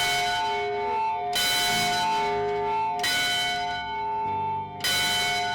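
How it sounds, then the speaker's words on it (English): Historic Mather School bell rung in slow repeated strikes, each loud metallic clang ringing out with long harmonic decay before the next, close and clear with no voices. "You were chosen to come out and ring the bell."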